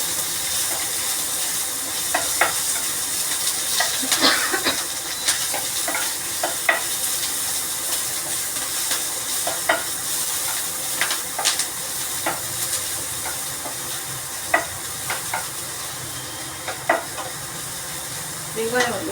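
Finely chopped onion and curry leaves fry in a pan for aval upma, a steady close sizzle and hiss with frequent scraping stirs and light clinks scattered throughout.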